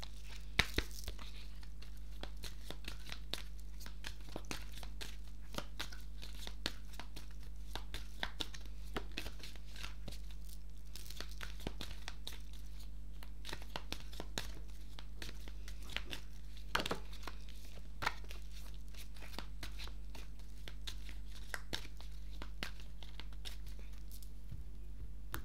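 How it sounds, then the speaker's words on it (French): A deck of Grand Oracle de l'Amour cards is shuffled by hand, producing soft papery rustles and scattered flicks and snaps near the microphone over a faint background hum. "Je vais vous tirer les cartes du grand oracle de l'amour pour aller un peu plus en profondeur."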